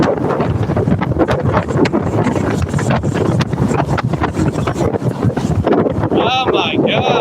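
Strong wind buffeting the microphone outdoors in town, a loud, continuous roaring rumble with gusty bursts, while a person speaks over it toward the end.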